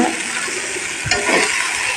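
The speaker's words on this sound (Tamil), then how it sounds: "புதினா ஒரு கைப்பிடி அளவு சேர்த்துக்கோங்க. சேர்த்து வதக்கி விட்டுக்கோங்க." A handful of mint leaves sautéing in a hot pan for chutney, a steady sizzle with a brief stir and scrape in the middle, close and fairly loud.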